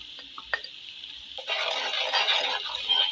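Spices including crushed chillies, turmeric and dried coriander added to a cooking pot and stirred, starting with a few light clinks, then a continuous close sizzle with scraping from halfway on.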